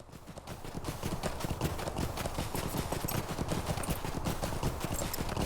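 Rapid, steady clip-clop of a Rohan steed's hooves in the Lord of the Rings Online video game, a continuous close trotting rhythm with no talk over it.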